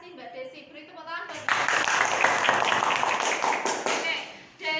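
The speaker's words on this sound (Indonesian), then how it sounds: "Beri tepuk tangan." Students in an Indonesian classroom break into a burst of lively applause, many hands clapping together for a few seconds after a teacher's voice, then fading out.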